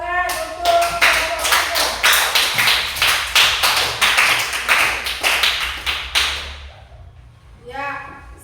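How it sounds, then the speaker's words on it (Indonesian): Classroom applause for a student group after their presentation, a dense burst of many hands clapping for about six seconds before fading into a short spoken remark. "Tepuk tangan untuk kelompok 3."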